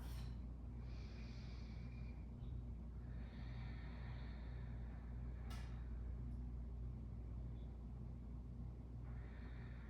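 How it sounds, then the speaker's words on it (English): Steady, slow breathing runs throughout, with hissy exhalations rising and falling over a constant low rumble, consistent with Ujjayi Pranayama breath in a desert yoga class; a brief sharp sniff stands out midway. No one talks. "Taking a few more rounds of your Ujjayi Pranayama, our victorious, warming, grounding breath."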